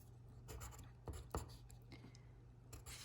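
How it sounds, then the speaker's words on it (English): Pen or pencil scratching out numbers on paper during a rounding exercise in an 8th grade math lesson, several short strokes and scribbles close up over a steady low hum, with no talking. "I'm going to go ahead and write down"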